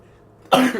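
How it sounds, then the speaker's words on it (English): A single loud, harsh cough bursts out after a moment of near silence, close to the listener. "Hopefully I pass my coughs on to you."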